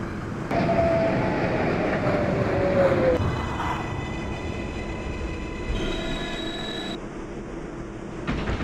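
Brooklyn Bridge-bound 6 local subway train running in Manhattan near Astor Place, a loud steady rumble of wheels and motors with rising and shifting whine tones and brief squeals, close and continuous, no voices.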